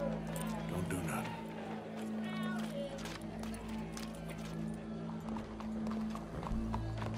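Horse hooves clip-clop steadily in Red Dead Redemption 2, a continuous trotting rhythm at moderate distance, with a brief whinny, low music and background game sounds underneath.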